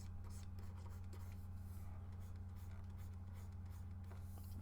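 Pencil-sketch lines of a bull drawing being erased on paper, a steady continuous rubbing scratch with quick strokes throughout, close and alone over a constant low hum.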